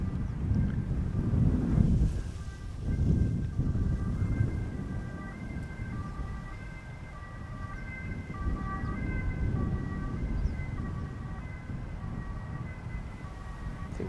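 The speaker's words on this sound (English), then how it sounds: "That's a Volvo ambulance" A Volvo ambulance siren wails in a repeating two-tone pattern, passing at moderate distance over wind noise and outdoor background, with no talk.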